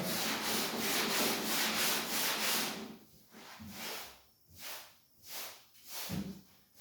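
Sandpaper rubs by hand over a dented surface, first as a long continuous scrape and then as slower back-and-forth strokes with short gaps between them, close and steady with no talking.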